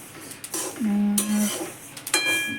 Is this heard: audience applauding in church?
no